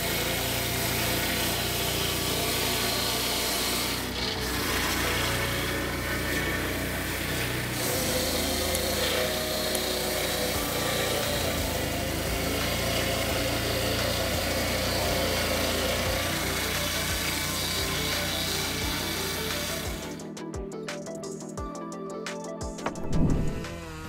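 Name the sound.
Husqvarna 3120XP chain saw cutting a wood log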